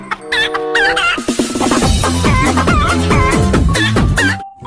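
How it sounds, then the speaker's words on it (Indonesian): A chicken in the video game Jurassic World Evolution 2 clucks loudly in a rapid run of close, choppy calls over a steady game backdrop. "ini ayam."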